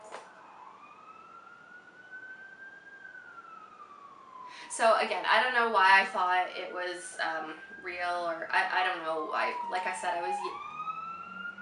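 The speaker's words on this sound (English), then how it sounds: "I don't know if you can hear the sirens going on in the background." A siren wails in the distance, rising and falling steadily while a person talks over it in the foreground.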